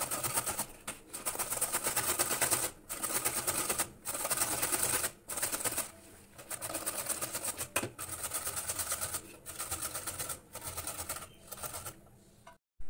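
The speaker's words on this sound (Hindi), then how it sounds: "मूली ले ली है और अच्छे से छील लिया है मैंने, कद्दूकस करूँगी।" A peeled white radish is grated by hand on a kitchen grater: steady rhythmic scraping strokes in repeated bursts with short pauses between them, close and fairly loud, with no talking.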